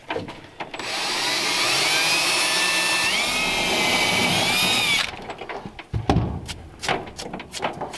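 A power drill whines steadily for about four seconds while drilling on a 1939 Ford hot rod's tail lights, its pitch shifting slightly, then stops, followed by scattered clicks and knocks.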